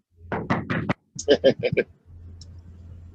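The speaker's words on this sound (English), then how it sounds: "So you knock." Knocking on a front door while prospecting door to door: a burst of several loud knocks, then a second run of knocks, close up, followed by low background hum.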